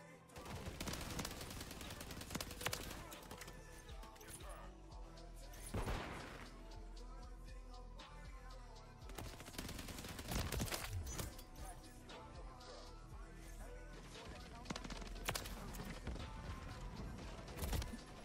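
Gunfire in the video game Call of Duty MW3, with bursts of automatic fire and single shots, loud crashes and mechanical clatter over about eighteen seconds.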